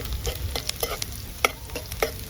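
An egg frying in a pan while out with friends over toddy and chicken: a steady close sizzle broken by sharp scraping clicks of a spatula.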